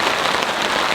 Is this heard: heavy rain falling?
yes